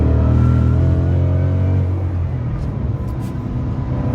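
A supercharged Shelby GT-H Mustang with a stick shift drives on the road. Its engine is a close, deep, continuous rumble that shifts slightly in pitch, with no talking.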